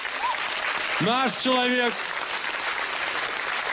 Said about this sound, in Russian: Григорий Лепс у нас, аплодисменты.